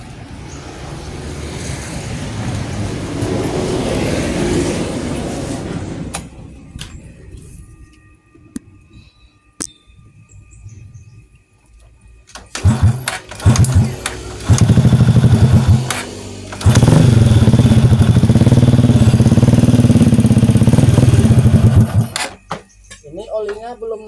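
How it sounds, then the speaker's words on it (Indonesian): A motorcycle engine cranks and fires after a quiet pause, settling into a loud, steady close-range idle that rises in bursts; the machine has a dirty crankcase with internal engine damage. "Kemudian kita akan nyalakan mesinnya"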